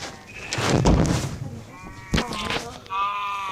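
A sheep bleats in Minecraft, a wavering cartoonish baa amid other game noises and sharp effects, fairly loud and close.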